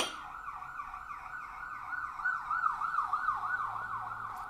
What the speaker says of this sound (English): a lot of ambulances and such go by.